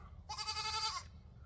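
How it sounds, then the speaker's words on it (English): A goat on a small homestead gives a single clear bleat lasting under a second, close and moderately loud over quiet background noise. "we've got right now 2 goats"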